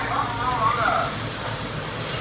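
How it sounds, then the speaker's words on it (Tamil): Steady rain falls outside a home kitchen during cooking, a continuous even hiss of drops with faint indistinct voice in the background. "நல்லா மழை பெஞ்சிருக்கு வெளியே."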